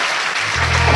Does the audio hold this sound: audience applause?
yes